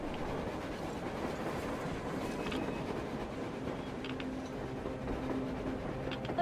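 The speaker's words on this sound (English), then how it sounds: "A train! A damn train on the surface!" A train moves across the surface in the Metro Exodus video game, heard as a steady, distant rumble with a faint rhythmic clatter of the cars that stays even throughout, with no voices.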